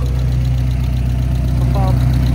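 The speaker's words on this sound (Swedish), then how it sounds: "BMW med ombyggd bakvagn och grejer. Vi får ha bara grenrörsläckage." A BMW with a rebuilt rear end idles close and loud, a steady, deep, throbbing engine note from a car with an exhaust manifold leak, with a brief voice over it.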